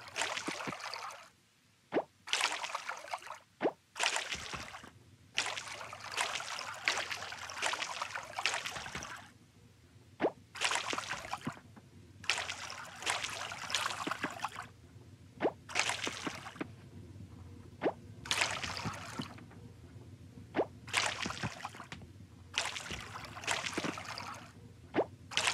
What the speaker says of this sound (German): Einmal gießen muss sein.